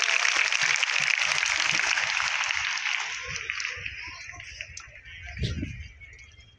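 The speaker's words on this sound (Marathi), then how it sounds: "जोरदार टाळ्या होऊन जाव्या।" A crowd at a school prize ceremony during a Ganesh festival event applauds in a sustained, even wash of clapping that slowly fades out, followed by a few low thumps and a voice.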